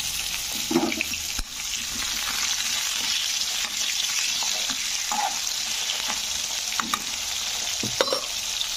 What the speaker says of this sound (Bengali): তো প্রথমে আমি আলুগুলোকে ভেজে নিচ্ছি।